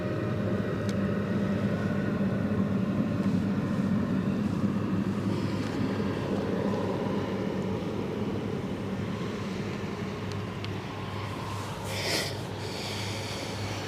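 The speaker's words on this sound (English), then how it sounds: "Wow, it's a loud engine." A ship's loud engine rumbles steadily as it sails on the Westerschelde, a constant low drone with wind buffeting the microphone.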